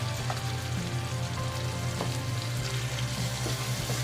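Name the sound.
water poured into a pan of simmering pork binagoongan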